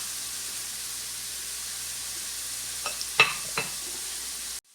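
Onions frying in a pan for masoor dal, a steady close hiss of oil sizzling throughout with a few brief stirring scrapes and clicks near the end before the sound cuts off.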